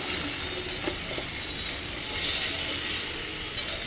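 Peanuts and other food being stirred in a pan of oil while fasting-day dishes cook, giving a steady close sizzle with occasional light scraping and clicking of the utensil.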